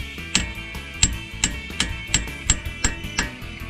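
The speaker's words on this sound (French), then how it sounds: "Je vais même rajouter un petit coup de marteau" Hammer tapping on a stuck part of a Jeep Cherokee being freed after a spray of penetrating oil, about ten sharp metallic knocks in a fairly even rhythm, close and clear.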